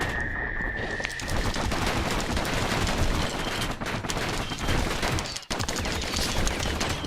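Maxed-out pistols firing in a video game, a dense, loud barrage of rapid overlapping shots mixed with explosive game effects that continues for several seconds, with a brief drop near the end before the firing resumes.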